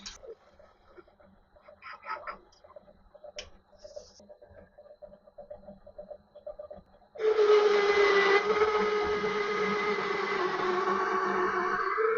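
Lathe drilling out a cast Colchester lathe motor pulley to three quarters of an inch: quiet workshop ticking at first, then a sudden loud steady whirring cut with a sustained whining tone.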